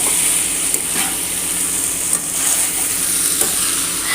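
Sardines packed with grated coconut, onion, curry leaves, turmeric and chilli powder frying in a pan for Kerala-style mathi peera, giving a steady close sizzle throughout with a few soft stirring or flipping scrapes and no talking.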